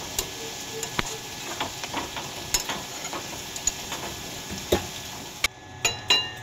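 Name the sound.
crab frying in a pan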